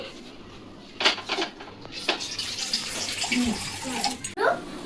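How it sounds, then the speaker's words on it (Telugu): Water poured into a metal pot for ragi porridge, a splashing gush with clinks of the vessel, fairly close and moderately loud, with a few faint voices in the background. "గిన్నెలో వాటర్ వేసుకోవాలి."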